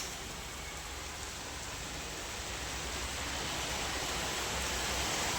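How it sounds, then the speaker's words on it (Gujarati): Steady rain pours down at home, a dense, even wash of falling water on surfaces that grows slightly heavier throughout, with no voices. "વરસાદ ચાલુ થઈ ગયો છે"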